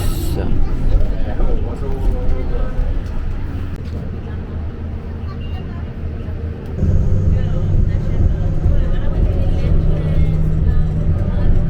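A city bus ride in Miami, its engine droning steadily throughout with road rumble that deepens and grows louder partway through, a faint hum of background voices underneath.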